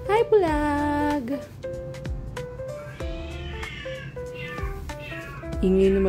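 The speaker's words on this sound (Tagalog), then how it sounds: "Ingay naman nung alaga pusa ni mama." A pet cat meows loudly and repeatedly in a home, its long drawn-out cries following one another close to the listener, with a few short gaps and a final loud meow at the end.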